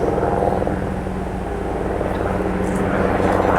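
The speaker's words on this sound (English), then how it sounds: "Hey, that's a helicopter." Helicopter sound effect in a stage production of Arsenic and Old Lace, a loud continuous rotor and engine drone that fills the whole stretch without a break.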